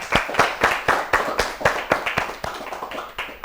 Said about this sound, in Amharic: እስቲ ለሁለቱም አጨብጭቡላቸው በድጋሚ።